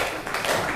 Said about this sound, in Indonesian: Sekali lagi kasih tepuk tangan untuk mereka bertiga.